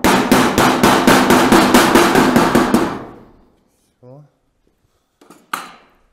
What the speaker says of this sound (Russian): Нам нужно молоточек подбить угол.